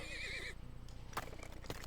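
A horse in the video game Turmoil whinnies with a wavering, high neigh, then gives way to a busy mix of clattering and thumping sounds.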